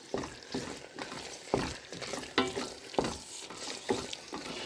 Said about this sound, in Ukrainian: Перекладаю засмажку, перемішую.